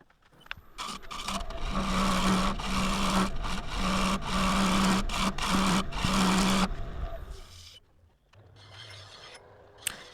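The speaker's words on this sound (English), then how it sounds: "coming into a shear scrape and touching up the top of the rim there" A scraper shear-scraping the rim of a Splitsuarina wooden bowl spinning on a lathe gives a steady, loud rasping scrape over a low motor hum, coming in several bursts before the cutting stops and the lathe runs on quietly.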